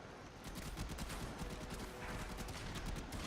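Enemy gunfire rattles in the Warframe video game as a dense, continuous volley of rapid shots layered into a busy, noisy mix, fairly quiet overall and with no talking.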